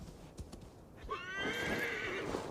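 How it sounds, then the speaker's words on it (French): Horse in the video game Assassin's Creed Valhalla gives a loud, clear whinny, preceded by a few soft hoofbeats at a slow pace. "Est-ce que le cheval, il peut faire ça?"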